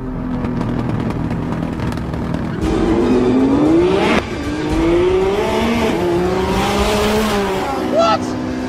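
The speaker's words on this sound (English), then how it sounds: "He's pulling away in a Nissan Patrol!" A Nissan Patrol races a supercar, with loud close engine roar rising and falling through gear changes as the revs climb, a high whine near the end, and talk mixed in.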